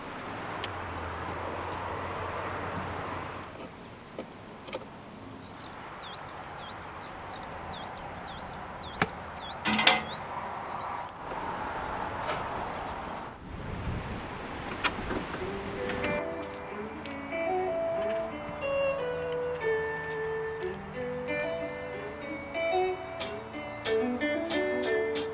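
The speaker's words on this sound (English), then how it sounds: "So I'm just undoing the throttle cables and then unbolt it and it'll be ready to lift off." Mechanical work on a narrowboat engine as throttle cables are undone and bolts loosened, with clanks, scrapes and metallic ticks over a steady background rumble, turning into a busier stretch of rattling and tool noises later on.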